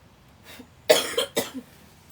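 A few short coughs close up, a soft one followed by two sharp, louder bursts in quick succession.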